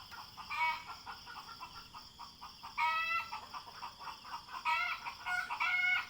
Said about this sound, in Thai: ไก่แจ้นะไก่แจ้ตัวเล็กๆ นอนมุมสูง